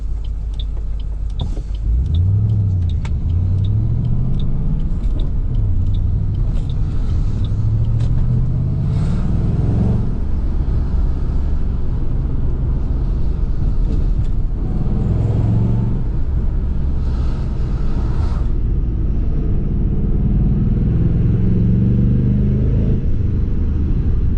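A 2008 Ford Mustang GT Bullitt's V8 rumbles steadily on a test drive, with deep rising and falling engine tones as it accelerates and shifts, loud and continuous inside the car.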